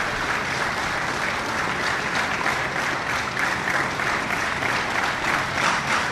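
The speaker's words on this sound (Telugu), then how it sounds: "అతనికి పెద్ద ఎత్తున చప్పట్లు కొట్టండి." Steady applause from a large audience at a live youth quiz competition event, dense and continuous clapping at a fairly even level throughout without any break.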